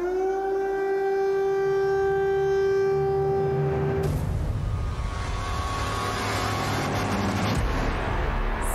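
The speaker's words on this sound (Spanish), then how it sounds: "Se trataba de las sirenas de alerta que se escuchaban en la ciudad de Kiev" Air raid alert sirens wail over Kyiv, a loud steady civil defense tone holding for about four seconds before cutting off, leaving a rumbling urban background with distant traffic-like noise.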